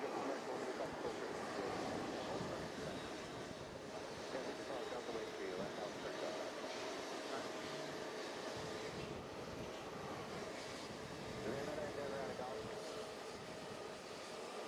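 A JetBlue airliner taking off on runway 22 right at JFK, a broad sustained roar of jet engines heard from a distance, steady and loud throughout with no voices over it.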